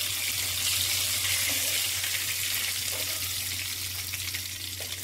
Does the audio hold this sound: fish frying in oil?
yes